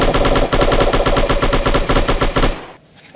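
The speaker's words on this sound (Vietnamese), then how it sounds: "Nghe tiếng súng chơi chưa?" Rapid, steady machine gun fire from the shooter game Striker, loud and continuous for about two and a half seconds, then stopping abruptly.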